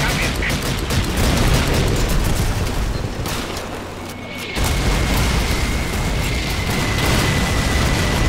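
Call of Duty 2 British campaign battle: repeated booming tank cannon shots and gunfire burst out in a dense, loud, continuous barrage, with a brief lull in the middle before the firing resumes.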